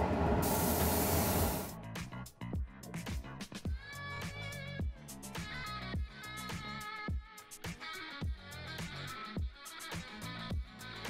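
An airbrush sprays metallic copper paint onto an RC car body in a short, close, steady hiss, followed by a run of clicks and tonal clatter.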